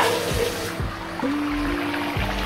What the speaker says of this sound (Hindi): 1/2 गिलास के करीब पानी ऐड किया है